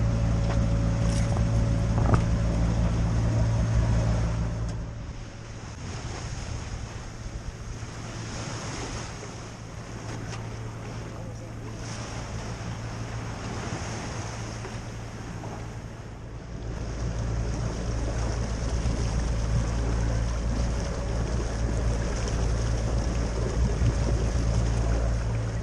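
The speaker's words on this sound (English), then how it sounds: "Soon we were motor sailing again." A Westsail 32 sailboat motor sails along the Oregon coast, with a steady engine drone, rushing water and wind noise on the microphone, continuous and fairly loud throughout.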